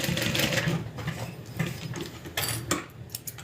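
A sewing machine back-stitches a seam on a leather crossbody bag, running in short close bursts of fast mechanical ticking with brief pauses between passes.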